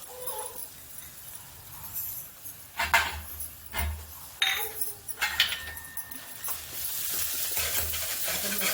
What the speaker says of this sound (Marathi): आता हे खोबरं टाकते ओला नारळाचा किस टाकते